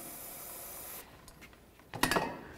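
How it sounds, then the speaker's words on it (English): A steady aerosol hiss of parts cleaner sprayed onto a 2004-08 Ford F-150 front brake caliper for about a second, then a pause with faint handling noises, followed by a brief louder burst of spraying. "I'm just going to spray it down with a little bit of parts cleaner."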